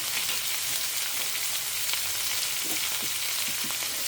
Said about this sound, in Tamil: கொஞ்சம் வதங்கட்டும்.